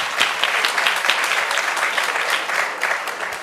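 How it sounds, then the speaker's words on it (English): An audience at a forum and 50-plus hiring event gives the panelists a steady, full round of applause, a dense continuous wash of many hands clapping that holds evenly throughout. "let's give another round of applause to our panel"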